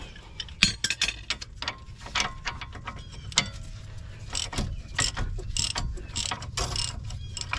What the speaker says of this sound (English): Grab a ratchet to make it a little faster.